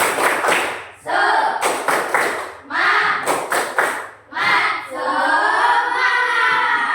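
A fourth-grade class does a rhythmic clapping chant, bursts of claps and thumps landing in quick groups while young voices chant along between them.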